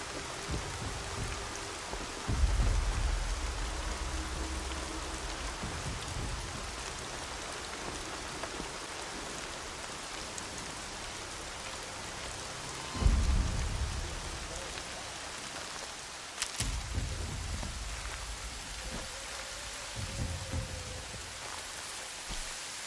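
Rain pouring in the game Horizon Zero Dawn with rolls of thunder, a steady quiet hiss of drops broken by several deep rumbling surges rising and fading.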